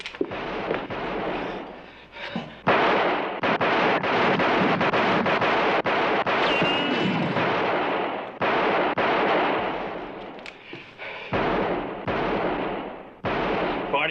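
Repeated gunshots ring out in a 1961 western film shootout, a rapid string of loud, sharp reports with short gaps and a few pauses, set against wind noise.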